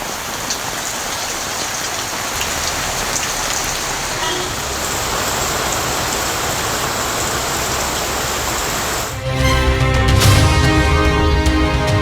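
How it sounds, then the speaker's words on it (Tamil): Heavy rain pours steadily across the Cauvery delta districts, a dense, loud hiss of drops hitting surfaces that keeps going throughout and swells into a heavier, harsher downpour near the end. "காவிரி டெல்டா மாவட்டங்களில் காலை முதல் கனமழை."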